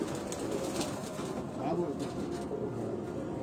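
Racing pigeons at a loft cooing in soft, murmuring calls amid a busy, noisy background with people talking nearby.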